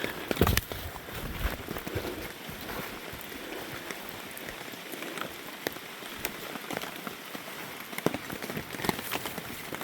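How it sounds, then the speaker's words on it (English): Rain patters on a wax canvas tarp strung over a hammock camp, a soft, dense, steady tapping with occasional louder drips, heard close from beneath the shelter and with no talking. "Just really enjoying being under here and listening to the rain."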